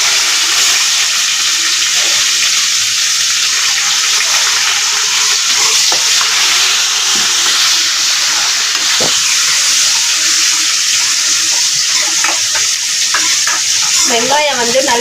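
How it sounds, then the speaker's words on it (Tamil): Onions sautéing in a pan for beef curry, stirred as they brown, with a steady loud sizzle throughout and scraping stirs near the end. "வெங்காயம் நல்லா வதங்கணும்."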